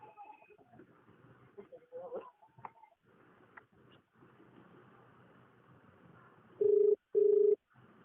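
An outgoing telephone call rings back with two short, even tones near the end, after someone speaks quietly over faint room noise.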